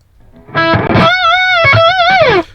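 Distorted electric guitar played through a Helix amp modeler with no wah, a short sustained lead phrase with bent, wavering notes, loud and alone.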